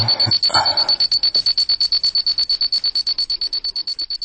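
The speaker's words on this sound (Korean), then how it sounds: "어둠 속에서 울리는 알람 소리는 내 몸을 사슬로 꽁꽁 싸매는 것 같았다." Alarm clock ringing in a dark room, a rapid string of sharp electronic beeps pulsing steadily and close, loud and unbroken for the whole stretch with no voices.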